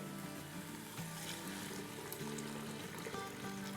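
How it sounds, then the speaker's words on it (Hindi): Eight cups of water are poured into a cooking pot while making shola, giving a steady, continuous splashing rush that lasts throughout at moderate, close volume with no talking. "ये मेरे पास 8 कप पानी है, ये डाल देंगे।"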